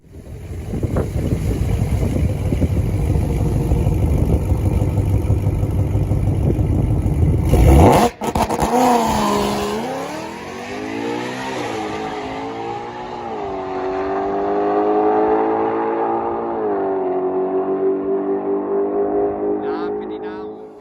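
A 2020 Ford GT500 makes a drag racing pass: a loud, steady engine roar, then a sharp break as the engine note climbs and sweeps upward through the gears, staying strong as the car accelerates away.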